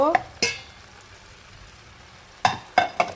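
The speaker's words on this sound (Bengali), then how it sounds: "এরপর আমি সমস্ত ইঁচড়গুলোকে দিয়ে দেব তার সঙ্গে আমি আলুগুলোকে দিয়ে দেব" Jackfruit and potatoes going into hot oil: sharp clattering, hissing bursts at the start and again near the end, with a faint low sizzle in the quiet stretch between.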